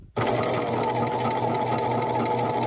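A sewing machine stitches a paper-pieced quilt block, starting abruptly and then running in a steady, fast, close-up whir without pauses.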